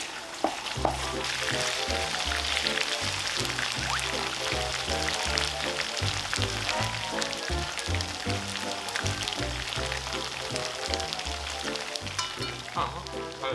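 Meat for gochu japchae sizzles in oil in a hot pan, a dense and continuous crackling fry heard up close, with occasional sharp pops and stirring scrapes.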